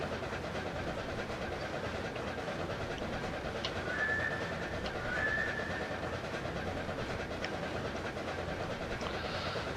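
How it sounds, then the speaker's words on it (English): An East Broad Top steam train engine runs through a cut, giving a steady, even rumble and rolling rail noise throughout, with brief faint squeals and bird calls above it. "Now I will let the engine run through the cut here as I explain some things."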